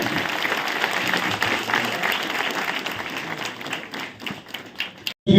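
Applause from a crowd at a public welcome and felicitation ceremony in the Mandesh region, steady dense clapping for about five seconds before it breaks off abruptly, with a few louder thumps at the end.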